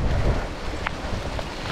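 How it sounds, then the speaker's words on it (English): Hail comes down on a cold, windy mountain during a long bike race near Big Sky, Montana, producing a dense, loud, continuous rushing patter mixed with wind buffeting the microphone. "And now it's hailing."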